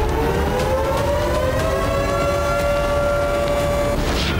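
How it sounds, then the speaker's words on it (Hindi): An air raid alert siren wails over Kyiv, a single sustained tone rising slowly and holding steady before cutting off near the end, set against a continuous hiss of city background noise. "कीव में कई घंटों तक अलर्ट अलार्म बजता रहा।"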